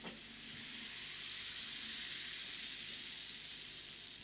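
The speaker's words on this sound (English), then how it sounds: "You hear that hiss and fizz." A soft, steady fizzing hiss of Belgian De Struise Black Albert Royal Stout in a glass, like carbonation crackling, continuous and faint with no talking.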